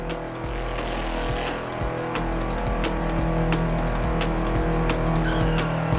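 Racing car in Forza Horizon 4 driven with a PXN V3II steering wheel, engine droning steadily throughout while tires squeal and skid repeatedly through corners, loud and close with no talk.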